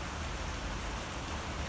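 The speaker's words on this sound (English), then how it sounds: "it's not raining that much compared to how it was there earlier" Rain falls steadily outdoors, a dense, even hiss of drops hitting surfaces, fairly quiet and uninterrupted, with no talking.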